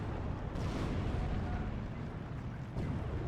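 Tank battle in the video game Steel Division 2 around a KV-85: a deep, rumbling low boom and muffled blasts rolling under steady battlefield noise, distant rather than close.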